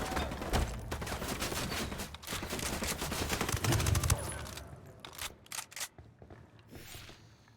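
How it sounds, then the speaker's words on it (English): Bursts of rapid gunfire in Ghost Recon Wildlands crack loudly and densely for several seconds, then thin into scattered sharp single shots and quieter gaps. "I'm shooting these fuckers."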